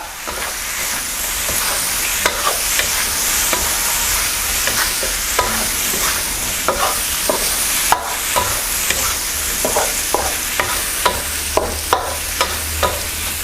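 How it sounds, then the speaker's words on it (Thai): Fried shrimp are tossed with fried garlic and a teaspoon of ground pepper, a steady sizzle punctuated by regular scraping clacks of a spatula against the pan, close and fairly loud, with no talking. "ตามด้วยกระเทียมเจียว พริกไทยป่นหนึ่งช้อนชาคลุกเคล้าให้เข้ากันครับ"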